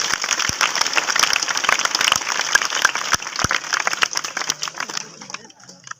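An audience at a magic show claps in a scattered, uneven burst with sharp individual claps that die away near the end.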